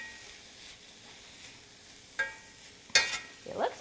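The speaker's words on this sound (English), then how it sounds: "Let me stir this around." Chili lime pork frying in a pan and being stirred, giving a low steady sizzle with a few sharp scrapes and clinks of the utensil against the pan near the end.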